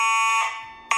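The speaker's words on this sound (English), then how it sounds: "I'm going to pull down the fire alarm at Chuck E." A fire alarm sounding at a Chuck E. Cheese's restaurant, a loud, piercing electronic buzzing tone that cuts off briefly and then blares again.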